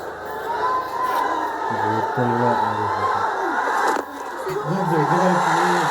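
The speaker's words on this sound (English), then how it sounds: "Nepal are away and the crowd cheers." Cricket crowd at a Nepal versus West Indies match roaring in a sustained, dense wash of cheers and shouts, with tonal calls and a commentator's voice riding over the noise throughout.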